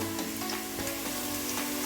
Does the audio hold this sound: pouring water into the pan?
no